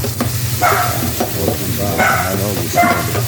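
Cooked beef innards sautéed in a pan with green chili, a steady sizzle with repeated scraping stir strokes, close and loud, under a little background talk.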